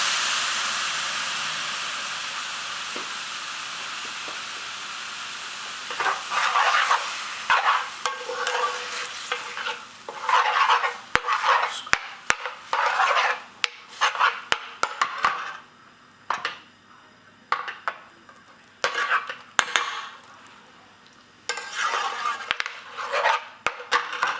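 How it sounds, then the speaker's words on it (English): Vegetable bhuna with base gravy in a pan, a continuous sizzle and hiss broken by repeated scraping and clattering spoon strokes against the metal, loud and close, growing more rhythmic and choppy as the stirring goes on. "Keep stirring it throughout, otherwise it's going to burn in one space."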